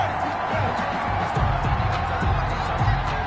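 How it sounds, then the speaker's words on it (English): A large stadium crowd at a football game rumbles with displeasure after a penalty flag, a steady broad roar with swelling murmurs, heard from a distance without clear voices. "Well, the crowd doesn't like that."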